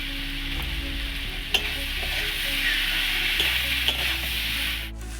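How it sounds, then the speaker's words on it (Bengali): Mushrooms and potatoes sauté in a spice paste for a Bengali kosha, giving a steady close sizzle with a few spatula scrapes and stirs through the pan. No one speaks. "এবার এগুলো দিয়ে একটু কষবো"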